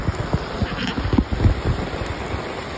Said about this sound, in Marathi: हे बघा पाऊस किती पडतोय